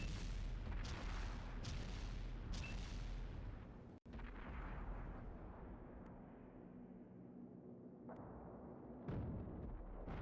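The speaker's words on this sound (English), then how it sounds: "Wish their shells would explode more, see, like an actual explosion." HE shells explode in a tank combat video game. Several deep booms and rumbling blasts overlap, and one sharp hit stands out partway through before the rumble fades to a quieter tail.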